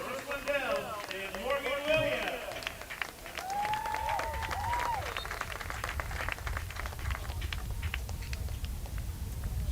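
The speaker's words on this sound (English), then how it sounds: "a round of applause there from the Bowling Green fans as the seniors who have done a lot for this program come off the field" Bowling Green fans applauding departing seniors at a women's soccer senior day at Cochran Stadium, light scattered clapping from a distant crowd under a commentator's voice, with whistle-like tones early on.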